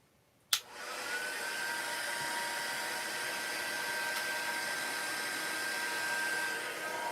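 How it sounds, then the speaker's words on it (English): An embossing heat tool switches on with a click and runs as a steady, loud blowing whine, heat-setting ink on vellum for a stamped card project, continuing unbroken for several seconds with no talking. "we will then need to grab our heat tool. So this is going to get a little bit noisy. And we're going to heat set this"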